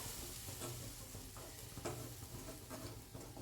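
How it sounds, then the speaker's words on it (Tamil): Rava and milk being stirred in a pan for rava laddu: a soft, continuous sizzle with faint scraping strokes, quiet and close, with no talking. "அப்படியே கிளறி விட்டுட்டே இருங்க"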